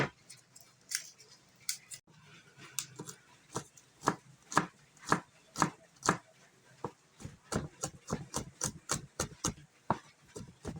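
Garlic being chopped on a board for a home-cooked tuna fish fillet steak, a close series of crisp knife knocks, sparse at first, then quickening into a fast, even rhythm.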